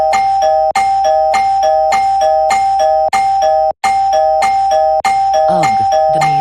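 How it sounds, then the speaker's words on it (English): A doorbell is rung over and over, with about eight loud two-tone ding-dong chimes in quick succession, each cut off by the next, and no talking. "I'm going to spam ring her doorbell again."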